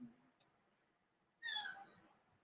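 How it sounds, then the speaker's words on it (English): A cat cries out with one short meow, faint and indoors against a quiet room background, preceded by a tiny click. "my cat is crying"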